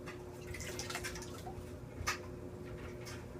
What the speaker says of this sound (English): I'm just going to give them a quick rinse.